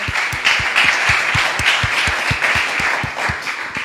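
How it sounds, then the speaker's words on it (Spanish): A church congregation claps for the Lord at a Spanish-language worship meeting, steady rhythmic unison clapping at a fairly loud level, filling the room for a few seconds. "Le damos un aplauso al Señor"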